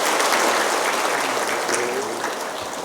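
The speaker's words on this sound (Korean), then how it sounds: "뜨거운 박수로 우리 축하하십시다" A church congregation at a Sunday service applauds warmly after a prayer blessing a newborn baby. The full, close clapping starts strong and gradually tapers off over a few seconds.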